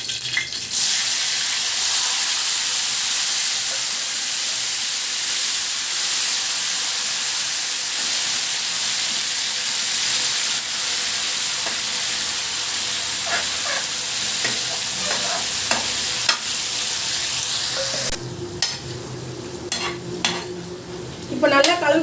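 Mutton liver fries with curry leaves in a hot pan, a loud continuous hissing sizzle with scraping stirs, then the spitting eases near the end into sharper clinks and scrapes of the spoon against the pan.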